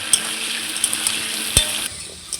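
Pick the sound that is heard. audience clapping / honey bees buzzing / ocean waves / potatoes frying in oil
potatoes frying in oil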